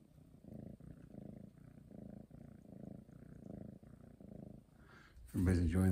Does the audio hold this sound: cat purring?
yes